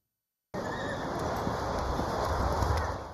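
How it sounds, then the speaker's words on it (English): Horses at the Colonial Classic Horse Show, an equestrian competition, neigh and clip-clop after a brief silence, with the whinny and hoof sounds carrying over a continuous outdoor ambience. "hundreds of horse riders are competing at the Colonial Classic Horse Show"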